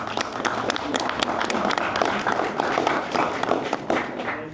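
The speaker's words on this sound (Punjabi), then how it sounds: "ਤਾੜੀਆਂ ਮਾਰੋ ਸਾਰੇ ਬੱਚਿਆਂ ਦੇ ਵਾਸਤੇ" A room of people claps for students at a Canadian university event, a dense, steady round of applause lasting several seconds with no lulls.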